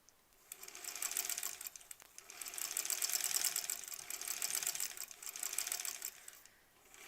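A sewing machine stitches a quilt block in steady fast runs of high, buzzing chatter, close and fairly quiet. The stitching stops briefly twice and tapers off at the end.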